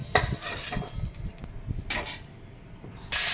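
Okra stirred in a pan of oil after potatoes were sautéed, a spatula scraping and clinking against the pan in irregular bursts, close and moderately loud, with a soft sizzle underneath.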